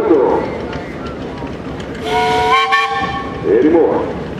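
A steam traction engine whistle blows a clear, steady multi-tone blast for about a second and a half at a steam threshers show in Darke County, sounding over background noise and nearby voices.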